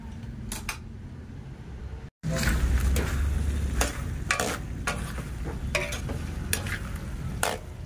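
A spoon stirs menudo in a pot with repeated clattering scrapes against the metal over a loud, steady sizzle, and the sound briefly cuts out early on.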